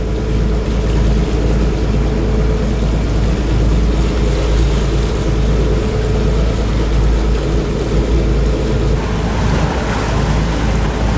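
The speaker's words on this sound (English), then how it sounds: "Just sailing south between the first and the second bridges." Luxury yacht cruising south on the Bosphorus in Istanbul between the first and second bridges, with a constant low engine rumble, water rushing along the hull and wind noise.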